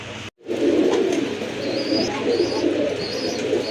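Indian Bombay pigeons, white fancy birds, coo together in a loft, a close and steady layered murmur of soft throaty calls with a few higher chirps, following a brief silent gap at the start.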